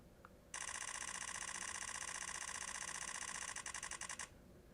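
A camera shutter firing in a high-speed burst at nearly sixteen frames per second, a rapid uniform chattering of clicks that runs for almost four seconds, then stutters and stops; close and crisp with nobody talking.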